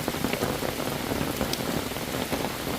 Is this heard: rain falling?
yes